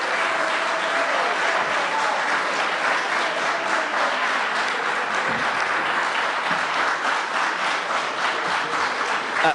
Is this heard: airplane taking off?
no